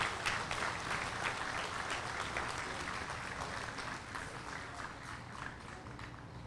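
Audience applause for the 102nd Army Band of the Connecticut Army National Guard at a drum corps anniversary parade and performance, a steady wash of many hands clapping at moderate distance, holding evenly and easing slightly toward the end.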